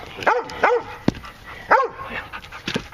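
A dog barks in a winter garden with ice about, several sharp, close barks in an uneven rhythm with short pauses, followed by a softer yip near the end.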